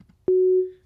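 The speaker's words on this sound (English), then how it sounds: "you can hear a sine wave right now" A single pure sine tone from the Operator synth in Ableton Live starts with a soft click, holds steady at a low-mid pitch for about a third of a second, then fades out smoothly, clean and alone.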